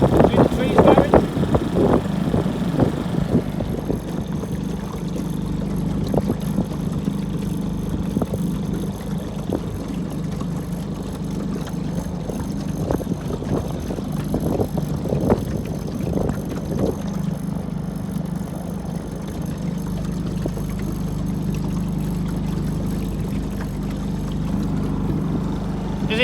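A small boat engine drones steadily while trawling on cold water, with a low rumbling hum and wind buffeting the microphone; people talk over it near the start.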